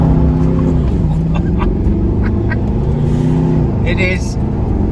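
Mercedes-Benz AMG SLS engine revving as the car spins around with stability control in ESC Sport mode, a loud close rumble with rising and falling pitch, joined by faint tire noise and someone talking over it.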